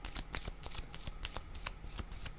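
Tarot cards are shuffled by hand in a quick, steady run of soft riffling flutters. The sound is close and fairly quiet, and it continues without a break and without any voice.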